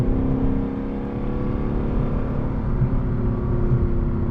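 The V8 engine of a 2025 Lexus LC 500 hums and pulls hard inside the cabin, a steady rising drone with harmonic tones and no talking.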